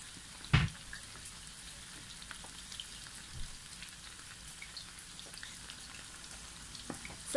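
Meat, stated as pork and also as chicken, fries in a pan to brown, giving a soft, steady crackling sizzle with a few louder pops and bumps, quiet and without talk.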